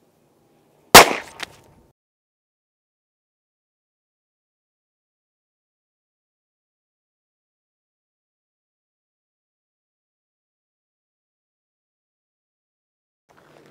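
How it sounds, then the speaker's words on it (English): A single sharp 9mm pistol shot, fired at a Level IIIA backpack armor plate, cracks loud and close near the start, then a brief decay into long silence. "we just shot the second round with the 9mm"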